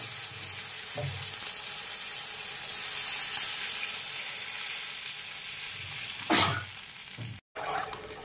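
Water poured into sizzling masala for a Bengali pabda fish curry, with steady frying hiss, then a loud surge of sizzle and steam as the water hits the hot pan, plus a few stirring clatters.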